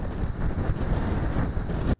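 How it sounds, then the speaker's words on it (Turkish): Strong, roaring storm wind in Antalya, Turkey buffets the microphone with a steady low rumble and gusty surges, then cuts off abruptly at the end. "Önce fırtına başladı."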